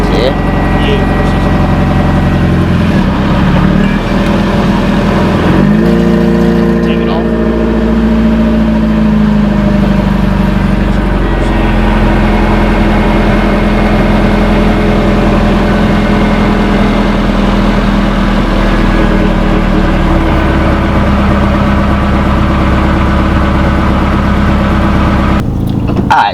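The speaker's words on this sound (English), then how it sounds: "I left this car running, bubbling, blubbling, boobling, whatever." A Honda Integra with a suspected blown head gasket idles steadily for the whole stretch, a dense, loud, continuous low rumble with a bubbling burble, and it stays close and unbroken throughout.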